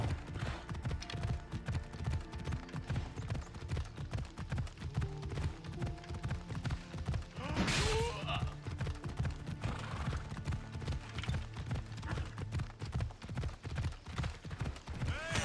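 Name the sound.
horse hooves clip-clopping, Assassin's Creed Odyssey video game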